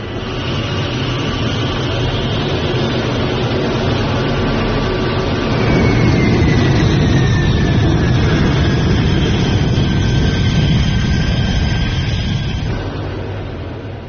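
Engines of PLA J-16 fighter jets roar steadily and loudly at takeoff, swelling slightly partway through. A faint descending whine runs above the continuous rumble, and no voices are heard.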